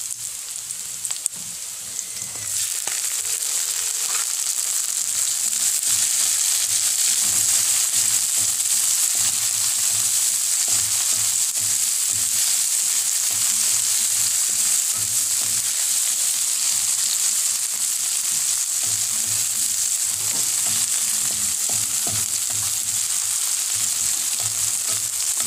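Tomato frying in a pan for a chicken pochero, a steady, close hiss of sizzling that swells sharply after a brief quieter start and holds at a loud level, with occasional faint stirring.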